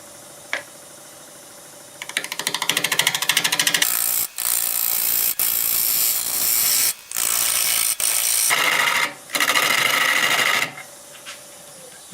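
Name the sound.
wood lathe hollowing out a maple burl bowl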